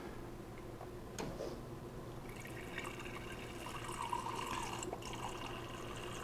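Water rushing through a newly connected home water line once pressure is restored, a steady hiss and trickle with faint drips and ticks, fairly quiet and continuous without talk.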